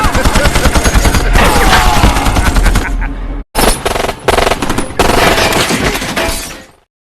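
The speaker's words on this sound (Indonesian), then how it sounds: "tiba-tiba kapal mereka diberondogi oleh tembakan para perompak dari tepi sungai" Rapid bursts of automatic gunfire from a riverbank rattle loudly and continuously, with a brief pause midway before the shooting resumes and then fades.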